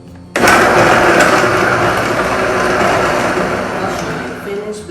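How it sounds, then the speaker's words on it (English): A countertop blender suddenly whirs to life, blending turkey seasoning mixed with apple cider into a loud, continuous, steady roar that holds for several seconds before easing slightly at the end. "I'll finish blending"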